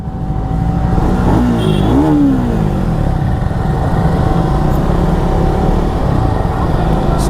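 A Triumph Speed 400 motorcycle's 400cc engine runs loud and close with a steady, continuous drone, rising briefly in a quick rev early on before settling back to an even idle-like hum.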